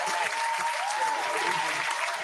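A crowd claps steadily in a short burst of applause, even and moderately loud with no pauses.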